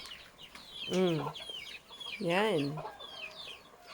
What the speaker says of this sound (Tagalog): Yung mga manok na daddy at mommy